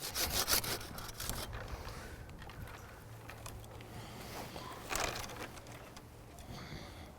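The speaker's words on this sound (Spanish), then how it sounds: "Este tipo de ramas gruesas se sacan con el serrucho" A hand saw cuts through a thick fruit tree branch during pruning, a close repeated rasping back-and-forth of wood sawing, strongest at the start and again around the middle.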